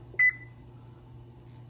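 A single short, clear electronic beep from a microwave oven timer, heard close over a low steady hum, with no talk.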